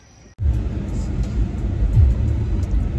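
Steady low rumble inside a moving car heading home, starting abruptly after a brief quiet moment and continuing loud and even, with a slight swell partway through.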